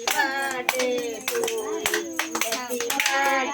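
Hands clapping at a birthday party, a brisk, loud rhythmic clapping of several people close by, mixed with voices and singing throughout.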